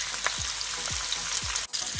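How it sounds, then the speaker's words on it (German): Beef rolls (Nackenrouladen) sear in a frying pan with a loud, continuous sizzle and crackle, punctuated by occasional soft clinks or scrapes as they are turned, with no voices. "die werden jetzt hier rundherum angebraten."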